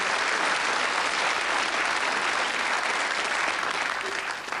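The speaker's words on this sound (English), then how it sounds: "Give them a round of applause." Studio audience at a British game show applauds steadily, a dense, sustained wash of clapping that holds at full strength throughout and starts to thin only at the very end.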